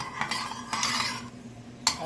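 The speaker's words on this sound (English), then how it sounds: "So you're just going to stir that so that those flavors come through" Oil and achiote being stirred in a pan over medium heat for Hawaiian-style gandule rice, a few light scraping clinks of a utensil against the pan over a soft steady sizzle.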